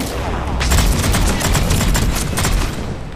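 Rapid bursts of gunfire from the Mass Effect 3 video game crackle densely and loudly throughout, with shots overlapping in a continuous volley.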